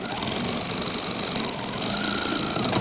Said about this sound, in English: I'm going to sew all the way down here to the other